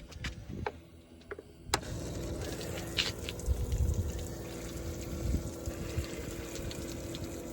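A water pump in a DIY overland camper built on a Dodge Ram 2500 hums steadily after a brief clunk, with water trickling and gushing at low level throughout.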